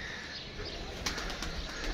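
A pigeon settling into a rooftop coop, with soft faint cooing and a brief flutter of wings near the middle, quiet and close against low background hiss.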